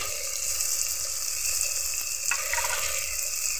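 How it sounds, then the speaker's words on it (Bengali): Chopped tomato, salt, turmeric and chili powder sautéing in a pan for a koi fish curry, a steady close sizzle with a faint scrape partway through and no talking. "সবগুলো উপকরণ 2 মিনিট কষিয়ে নিতে হবে"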